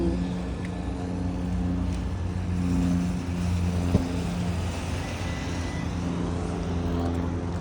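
An airplane passes overhead in a steady, broad engine rumble that swells slightly and fades, heard outdoors near a garden with no one talking over it.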